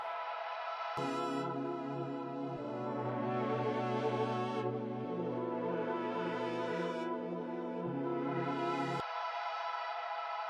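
Layered synth pads hold sustained chords that shift several times. The tone is dry and close, and it stops cleanly with no lingering tail.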